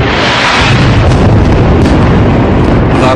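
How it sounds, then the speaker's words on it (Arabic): An airstrike on buildings in Gaza produces a loud, continuous, distorted roar of blast and rumble that fills the whole stretch without easing, with no clear speech. "هي غارة"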